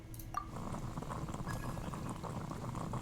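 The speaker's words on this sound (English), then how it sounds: "That's a satisfying water boiling noise." Game sound of water boiling over a fire in Genshin Impact: a soft bubbling, gurgling simmer with small pops and a brief clink near the start, steady and fairly quiet.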